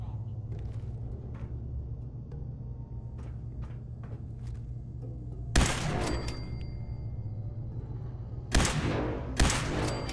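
Gunfire in Fallout 4 during a fight with feral ghouls under a base, a few sharp bursts standing out over a steady low game rumble, with scattered small clicks and impacts between them.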